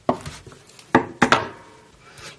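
Knife chopping bread into small cubes, with several sharp, crunchy cuts against a board, two louder strikes standing out amid lighter taps, close and clear.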